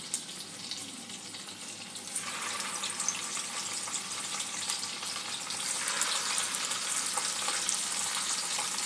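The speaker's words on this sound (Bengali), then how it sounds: "চিকেন বলগুলো আমি বানিয়ে নিয়েছি। একটা একটা করে এবার একটু ভেজে নেব।" Chicken meatballs frying in white oil in a wok over low-to-medium gas flame, a soft continuous sizzle that grows brighter and fuller partway through as more balls go in, with no talking.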